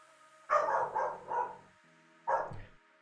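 A dog barks in the background of an indoor room, three quick muffled barks in a burst followed by one more after a short pause, moderately distant.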